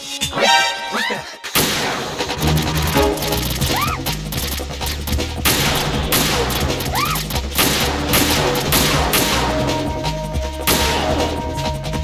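Gunfire from the Metal Gear Solid 2 video game rings out as repeated sharp shots and crashing impacts in an irregular rhythm over a steady game soundscape, preceded by a short, quieter intro.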